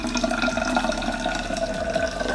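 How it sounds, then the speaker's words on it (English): Water is poured into a plastic bottle to fill it about a third full for a glitter bottle, a steady gurgling splash with a rising filling tone, continuous and close. "So we fill this with about 1/3 of water."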